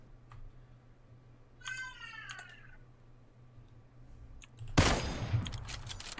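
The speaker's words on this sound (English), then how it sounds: "It made me shoot the fucking floor in front of me." Gunfire in the PUBG battle royale video game bursts out loudly in a dense, rapid volley near the end, after a quiet stretch with a brief whining, meow-like tone.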